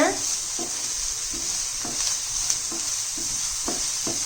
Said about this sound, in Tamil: உப்பு சேர்த்துட்டு நல்லா வதக்கி விடுங்க